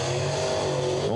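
A super late model race car comes off turn four at Wartburg Speedway during qualifying, its engine a loud sustained roar with rising pitch as it accelerates past.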